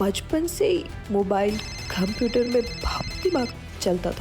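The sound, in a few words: phone ringing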